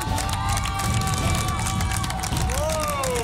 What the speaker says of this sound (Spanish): quiero que por favor le demos un gran aplauso